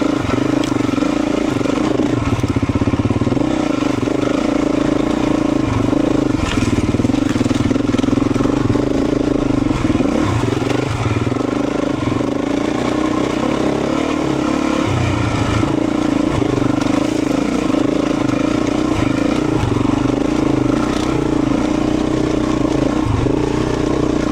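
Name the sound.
Beta 350 RE dirt bike riding single track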